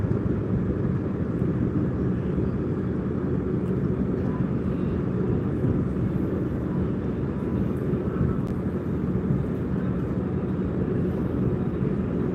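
A jet aircraft flying near a tour boat on the water off Cleveland, a steady broad rumbling roar that holds over the boat's idling engine noise without letup.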